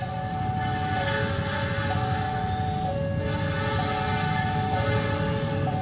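At level crossing JPL 75, the Logawa passenger train passes in a constant loud roar, with a repeating tonal signal pulsing about once a second over it throughout.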